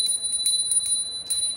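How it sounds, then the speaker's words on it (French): A small bell rung during a French tarot and oracle reading session, giving around five or six bright, clear strikes in quick succession with a lingering ring, heard alone. "Alors, on va faire tinter un peu la cloche."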